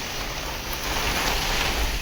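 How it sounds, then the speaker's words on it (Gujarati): Heavy downpour lashes a village in wind and storm, a dense, even roar of rain close by for about two seconds with no voices. "ધોધમાર ને ધુઆધાર વરસાદ છે"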